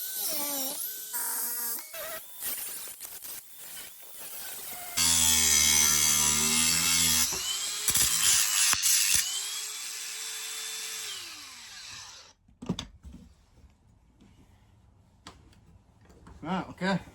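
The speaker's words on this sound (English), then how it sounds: "I'll clean it up with the grinder" A grinder cleans up a melted Nordic gold ring blank in a home workshop, with a loud, whining burst of grinding between shorter scraping and tool noises, while a person talks at other moments.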